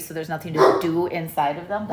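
A pet dog named Cinder barks several times in quick succession, sharp and close, overlapping with a person talking.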